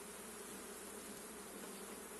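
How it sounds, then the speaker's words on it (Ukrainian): A steady, close buzzing hum of many honeybees in a hive, bees on the frames, fills the air continuously, with no voices. "в цьому корпусі ще, бачите, вон бджілки"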